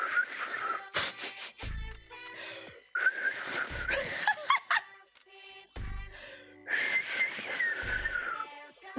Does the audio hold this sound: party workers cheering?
no